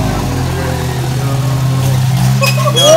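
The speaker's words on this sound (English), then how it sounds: "The new ride, boys. We are whipping the Can-Am." A Can-Am off-road vehicle engine runs steadily and close by, a low droning idle that swells slightly louder toward the end with a brief rising rev.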